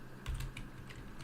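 A short flurry of keystrokes on a computer keyboard, several quick close clicks in uneven rhythm, heard alone.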